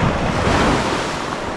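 Sea surf washing up a beach at high tide, a steady roar of breaking waves mixed with wind buffeting the microphone.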